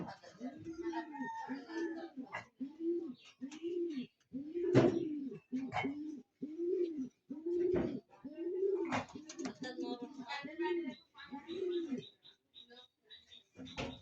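A pigeon on a pigeon farm coos in a steady, evenly spaced series of soft repeated calls, fairly quiet and close, with a few brief bursts of voice and handling noise between them.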